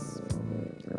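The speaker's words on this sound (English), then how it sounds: "Meow. Roar, cats." A cat purrs in a steady low rumble close by, with a brief higher meow-like call near the start and faint cries layered over the continuous purr.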